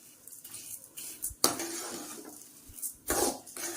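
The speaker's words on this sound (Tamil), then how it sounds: "இது பார்த்தீங்கன்னா கை விடாமல் கிளறணுங்க." Vermicelli roasting in oil in a pan, stirred continuously, giving intermittent scraping and clinking strokes of a utensil against metal over a faint dry sizzle, close and alone.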